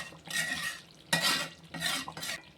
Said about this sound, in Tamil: நல்லா பாத்திரத்தை அப்படி பிடிச்சிக்கிட்டு தான் நம்ம கிண்டணும்